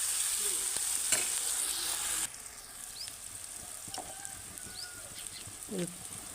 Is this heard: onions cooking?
yes